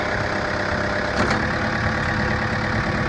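A 110 backhoe's engine idling just after ignition, a loud steady low rumble with an even mechanical drone and a brief higher whine partway through.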